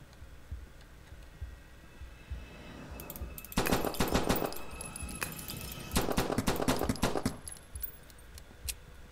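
Video game Exist: bursts of rapid automatic gunfire come in two long volleys, each a few seconds, with rattling metallic clicks and ambient game noise between them.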